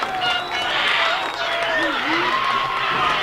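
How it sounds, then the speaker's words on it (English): A fired-up crowd at a 2017 high school football game between Mountain View and Uintah roars steadily, with whistles and a commentator's voice over the noise. "That crowd is fired up here"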